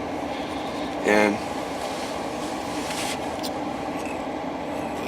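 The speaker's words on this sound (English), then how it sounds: "that's what these train cars are, is full of coal" A coal-laden freight train rolls past near a power plant in Edwards, Illinois, a steady broad rumble running throughout under a voice, with one brief louder clank early on.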